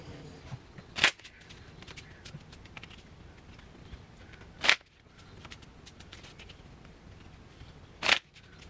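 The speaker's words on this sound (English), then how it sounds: "So let me shuffle these up." A deck of answer cards is shuffled in three short, crisp riffle bursts spaced a few seconds apart, close by and otherwise quiet.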